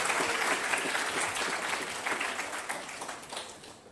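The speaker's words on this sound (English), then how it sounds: "feel free to give them another round of applause." An audience claps for best-in-class award winners at a showcase and awards event, a dense round of applause that stays full and then gradually thins and fades toward the end.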